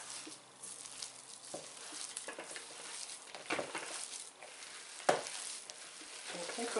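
A cod fritter batter with garlic and parsley being stirred in a bowl, giving soft wet squelching and scraping strokes at close range, fairly quiet, with one sharper clink.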